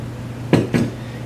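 A mixing bowl, earlier used for cinnamon sourdough dough, gets handled for drying, giving two quick, close ceramic clunks about a quarter second apart over a steady low hum.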